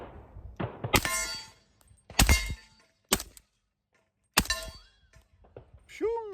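Steel target struck by rifle fire from a suppressed 300 Blackout, giving several sharp metallic clangs spread over a few seconds with ringing tails, some loud and near, separated by quiet gaps and brief background talk.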